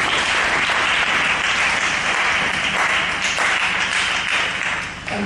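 A church congregation claps and applauds loudly and continuously at a service, a dense, steady wash of many hands that fades slightly at the end.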